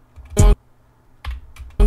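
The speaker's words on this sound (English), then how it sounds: "You mark by pressing M on the keyboard after you select your clip." Computer keyboard keys are struck in a few separate loud, close clicks with pauses between them, a quiet room otherwise.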